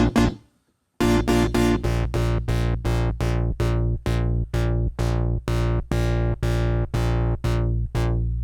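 A buzzy square-wave tone from a Prophet Rev2 synthesizer plays a single sustained note, then repeats as a steady run of short, evenly spaced staccato stabs, loud and dry.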